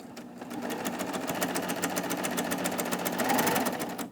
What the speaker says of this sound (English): when you're sewing a chain stitch, you always want to make sure that you start with the needle in the fabric